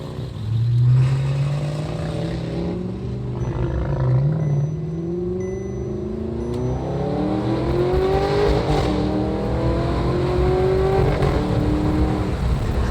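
Supercar engine revving hard, rising and falling through gears with a clear downshift blip, loud and continuous throughout, with no talking.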